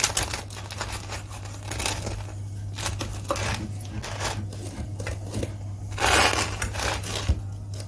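A knife slices through crispy homemade pizza fresh from a Ninja Foodi Max Health Grill air fryer, producing continuous close crunching and crackling with a louder crunch near the end, over a low steady hum.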